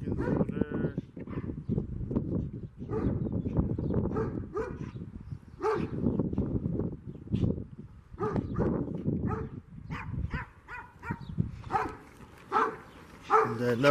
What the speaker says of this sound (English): Where y'all barking at, huh?